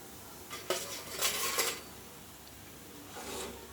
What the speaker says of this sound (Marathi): काढून घेऊया प्लेटमध्ये।